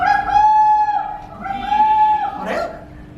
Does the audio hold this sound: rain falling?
no